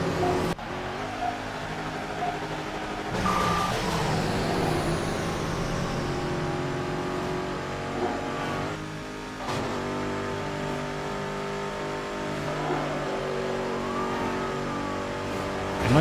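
Race car engines roar and rev continuously in Midnight Club 3 while a Chevy Camaro, Dodge Charger and Chevy Corvette compete, with steady loud engine drone, pitch shifts as gears change, and occasional tire squeal throughout.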